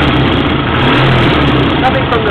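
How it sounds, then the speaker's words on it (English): Triumph 750 motorcycle engine with loose valve guides running close up, a loud continuous rough rumble with exhaust leaking from the pushrod tube, steady throughout. "I think it's oil like exhaust from the rocker box because the valve guides are loose"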